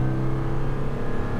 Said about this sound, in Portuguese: Estou acelerando progressivamente aqui com uma certa suavidade.